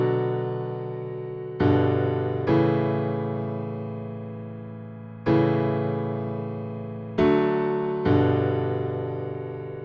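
A basic piano chord progression played in Ableton Live, six sustained chords struck at an unhurried, uneven pace, each ringing and fading before the next, close and clear with no voices.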